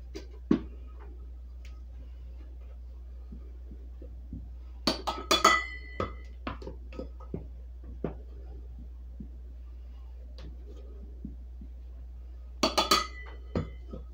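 A measuring cup knocks against a bowl while four cups of flour are scooped for homemade Italian bread, making sparse, sharp clinks that come in small clusters against a quiet kitchen hum.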